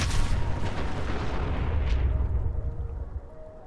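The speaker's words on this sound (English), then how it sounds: "Sometimes these old cars will blow up." An old car in Fallout 4 explodes with a heavy boom and rumble, its roar slowly fading into a long decaying tail.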